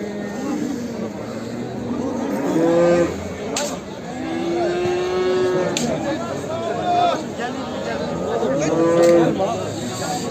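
Cattle moo several times at a busy livestock market in Niksar, Tokat, where a heifer is being sold. Drawn-out, fairly close calls rise over a steady murmur of people talking and crowd noise.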